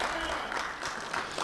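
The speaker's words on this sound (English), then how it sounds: "Come on, you guys can give her a bigger applause." The room at a Corpus Christi boxing press conference fills with a brief wash of continuous clapping, moderately faint and even, with some voices mixed in.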